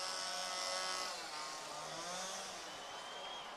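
Chainsaws revved by fans in the stands at a college basketball game in Arcata, California, a steady loud roar of several engines with a wavering pitch that fills the arena throughout.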